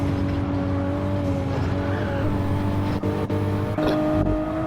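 Steady engine drone of race cars, including a Subaru, in a racing video game, holding a constant pitch with slight shifts and a couple of brief dips, loud and continuous.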